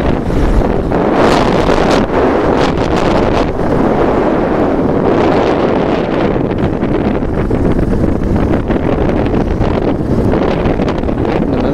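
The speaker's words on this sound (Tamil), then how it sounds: "காற்று சூப்பராக அடிக்குது." Strong wind roars continuously on a motorbike trip in the Kolli Hills, buffeting the microphone with a loud, rough rumble that never lets up.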